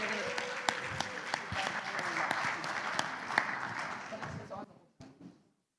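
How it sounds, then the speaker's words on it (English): An audience at a community arts event breaks into applause, dense overlapping clapping at moderate distance that holds for about four seconds and then thins out and fades to silence. "Please give a round of applause to Amber Beneventi."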